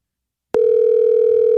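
An outgoing phone call produces a steady, loud electronic tone that starts abruptly after a moment of silence and holds unbroken to the end, with no voices.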